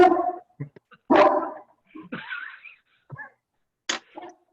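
A dog barks during a commission meeting: a few sharp barks and yelps with short whimpering sounds between them, fairly close, with no speech over them.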